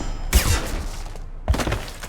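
Gunfire breaks out in a Mass Effect 2 shootout: two sharp bursts of shots with crackling tails, one near the start and one after a brief gap, loud and close.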